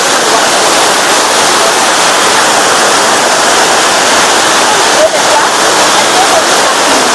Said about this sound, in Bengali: হাতির দাঁতের মতো এবং হাতির যে চেহারা, সেই চেহারার মতো এই ফলসটা নেমে চলেছে নিচের দিকে।